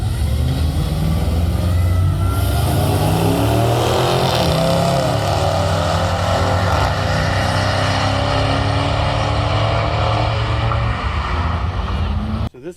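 A car accelerates at a drag strip with a loud, sustained engine roar that climbs through the gears over many seconds, heard close, before it cuts off at the end.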